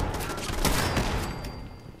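Turrets fire a dense, continuous burst of gunfire in Fallout 76 on PS4 Pro, loud and close, with rapid overlapping shots over about two seconds and no talking.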